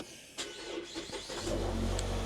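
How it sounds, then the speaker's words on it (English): Engine of a Mazda 6 car catches partway through and settles into a steady, close idle hum that holds to the end. No one speaks. "let's go ahead and start up the engine"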